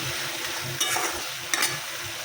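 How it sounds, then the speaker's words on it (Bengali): Poppy seeds (posto) being stirred in a pan over a low, even frying hiss, with two brief scraping strokes, close by and without voices. "পোস্ত বেশি ভাজতে হয় না, একটু অল্প একটু নাড়াচাড়া করে"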